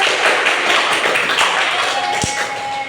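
A group claps in a fast, scattered patter of taps, moderately close, with a voice audible underneath.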